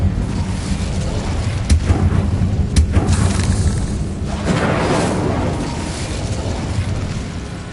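Fiery spell bursts cast in Hogwarts Legacy, booming whooshes and crackling blasts in quick succession, with two sharp impacts near the start and a sustained roaring flare later, loud and close over game ambience.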